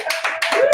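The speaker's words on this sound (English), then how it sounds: "Ladies and gentlemen, round of applause." Studio audience applause greeting a special guest, a world champion, on a podcast set, a short burst of clapping in uneven waves that comes in close and fairly loud, with no talk over it.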